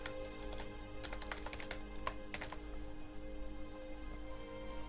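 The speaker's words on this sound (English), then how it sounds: "just type like this." Quiet, steady typing on a computer keyboard, a run of close keystrokes clustered in the first half, then easing off, with a faint background hum.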